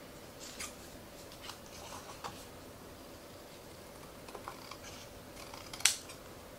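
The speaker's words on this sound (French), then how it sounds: "Ensuite, je vais couper. Je prendrai un ciseau plus grand" Scissors cut through pieces of material in a quiet room, giving soft scattered snips and clicks with a sharper snip near the end and no voices.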